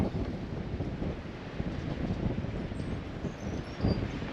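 Wind blowing across a high balcony on a mill, a constant rough buffeting roar on the microphone with gusty swells, close and fairly loud, with no talk.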